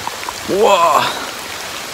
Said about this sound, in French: Ah, il pleut de ouf, je suis trempé.